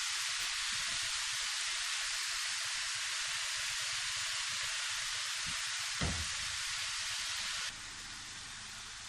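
Food sizzles and fries steadily in a hot pan before spices go in, a loud continuous hiss with a brief stir or clatter midway and a slight drop in level near the end.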